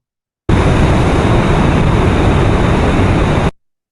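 Ultrasound signal recording from a machine played back as a dense, loud broadband hiss that starts abruptly, holds steady for about three seconds and cuts off.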